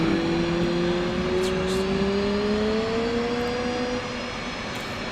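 An F/A-18C jet in DCS World spools up as the throttle advances, a steady loud turbine whine and roar whose pitch climbs slowly, then settles slightly quieter near the end, with no speech.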